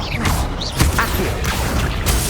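Accio summoning spell cast in the video game Hogwarts Legacy, a loud burst of swishing magical whooshes and clanking, crunching impacts layered together over about two seconds, close and busy with game combat noise.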